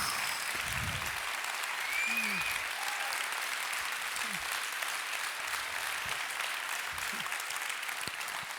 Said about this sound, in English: But if we applaud longer, there's less time for questions.